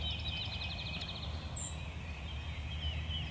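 A wild turkey gobbler roosting in a tree during spring hunting season gobbles faintly from a distance, with a high bird call and steady low background rumble around it.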